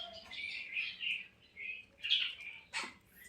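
A Bali myna (jalak Bali) gives a series of bright, whistled calls and chirps, several short phrases with brief pauses between them, fairly clear against a quiet background.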